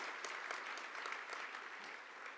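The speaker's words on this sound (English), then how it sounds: "Give him another round of applause for" Steady, dense applause from a large audience at the 2017 RNASA Space Awards gala, a continuous wash of clapping hands filling the room throughout.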